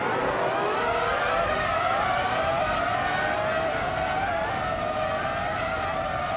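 Race cars in a racing video game roar continuously, with several engine tones rising and sliding in pitch as they jostle close together.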